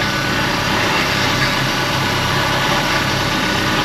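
A 2002 Kia Rio engine idles steadily and loud, low on transmission fluid, a constant broadband drone holding even for the whole stretch with no voices.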